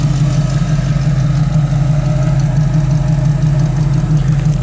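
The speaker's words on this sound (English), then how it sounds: "Dual exhaust sounds great." A 1969 Chevrolet Camaro with dual exhaust idles steadily, its deep, even rumble held close and loud with a slight lumpy pulse throughout, and no voices over it.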